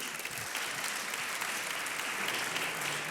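During an evening mentoring event, an audience gives even, continuous applause that sounds somewhat distant and subdued, with no speech over it.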